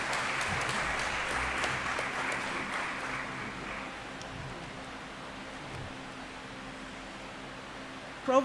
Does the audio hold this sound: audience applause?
yes